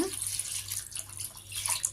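Water splashes and trickles steadily into a pot of boiling mutton soup, a continuous wet pouring sound with a low hum underneath, fairly close.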